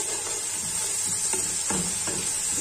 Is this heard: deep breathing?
no